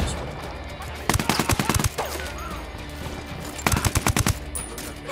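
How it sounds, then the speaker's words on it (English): Gunfire in the Ghost Recon Wildlands video game during a flashbang clearing of a building: two loud bursts of rapid shots, one at the start and one near the end, crisp and close. "Lobbing a flashbang."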